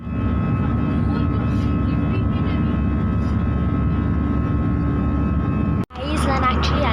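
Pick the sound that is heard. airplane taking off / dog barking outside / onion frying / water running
airplane taking off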